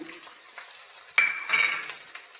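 Green chilli, curry leaves and crushed coriander seeds sizzle in a hot pan as a spoon stirs and clinks against the metal, with a brighter burst of frying partway through.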